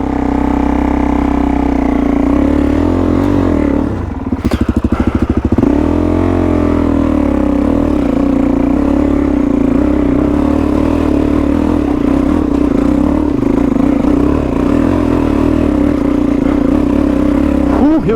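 A Suzuki DRZ400E dual sport motorcycle climbs a hill under load, its engine droning loud and steady, with a brief rough clattering burst early on before the steady pull resumes.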